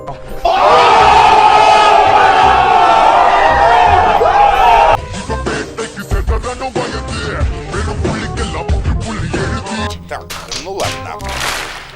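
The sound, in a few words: audience clapping and cheering to welcome a singer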